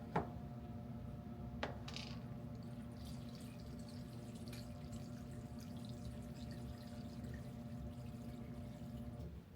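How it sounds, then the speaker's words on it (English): Faint, soft pouring and trickling of water onto seedlings in a tray set on a heating mat, with a couple of light taps and a steady low background hum. "Let's water her in real good."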